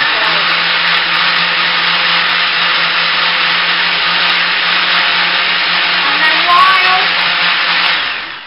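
A loud, steady motorized whir of a blender running continuously, with a constant low hum and broadband grinding noise, no talking.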